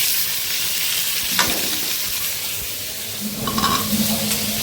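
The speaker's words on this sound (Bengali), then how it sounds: "আর এখানে মশলাটা কষাই ফেলছি" Spices sizzling in hot oil in a pan as a masala is cooked down for an egg and potato curry, a steady close frying hiss with brief stirring scrapes and no talking.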